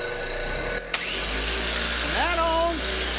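Bauer cordless angle grinder fitted with a worn flap disc, running steadily and loud close by; after a short break it restarts and whines up in pitch as the motor spins up again.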